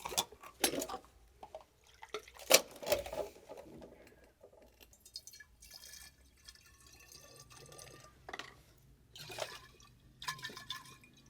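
Water is poured as a foley layer for a movie, producing faint, intermittent splashes and drips in short bursts against a quiet background.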